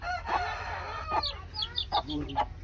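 Desi chickens and tiny chicks cluck and peep up close, with short high chirps breaking over repeated throaty clucks in an irregular, lively flurry.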